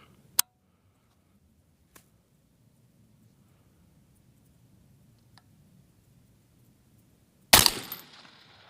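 A 22 DPC Wildcat AR-15 rifle with an 18-inch barrel, firing 85.5gr Berger Hybrid bullets, lets off a single sharp, loud report near the end, after a long quiet stretch with a few faint clicks.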